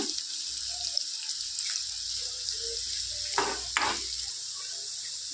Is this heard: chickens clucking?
no